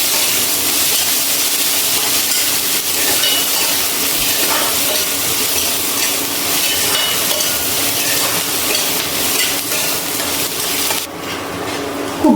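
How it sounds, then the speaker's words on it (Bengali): Finely chopped medium onion fries in a pan with a loud, continuous sizzle and hiss close by, broken by small crackles and scraping until it drops away near the end. "পেঁয়াজ ভেজে নিচ্ছি।"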